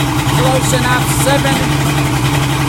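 A Mercury Black Max 175 hp outboard on a speed-record boat runs loud and steady, its throaty engine drone continuous throughout while someone speaks briefly over it.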